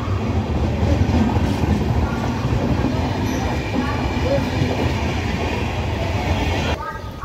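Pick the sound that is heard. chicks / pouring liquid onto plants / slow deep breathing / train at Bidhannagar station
train at Bidhannagar station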